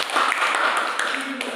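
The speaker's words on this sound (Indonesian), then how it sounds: "tepuk tangan untuk Kak Sinta" Classroom applause during a teaching practice session: a short burst of clapping from a group of students, mixed with voices, lasting just over a second at moderate loudness.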